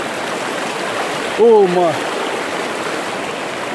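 Steady broadband rush of flowing stream water throughout, with a brief startled voice exclaiming partway through.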